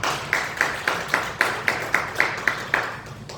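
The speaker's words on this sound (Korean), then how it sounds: "우리 박수로 축하하도록 하겠습니다" A church congregation claps together for a birthday celebration during a Korean worship service, producing a steady rhythmic beat of about a dozen evenly spaced, fairly close claps with no talking.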